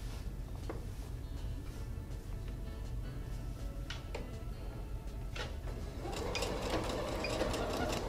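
Sewing machine stitching a quarter-inch seam at the shoulders of a shift dress, heard as a faint, steady mechanical hum with light ticks that grows busier and louder toward the end.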